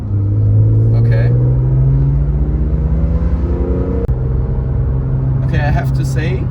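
A BMW E46 M3 CSL heard from inside while driving, its engine a loud steady drone that climbs in pitch, dips briefly at a shift, then settles again, with a short burst of talk over the motor near the end.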